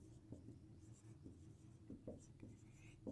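A pen scratches out a Class 7 rational numbers math solution on paper, with soft, irregular strokes faint beneath quiet speech.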